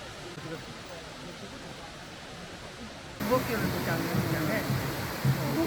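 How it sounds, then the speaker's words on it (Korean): Nachi Falls in Wakayama, Japan, a 133 m single-drop waterfall, gives a steady, broad roar that grows louder partway through. "나치 폭포는 일본 3대 폭포 중에 하나로 높이 133m로 단일 폭포로는 제일 높습니다."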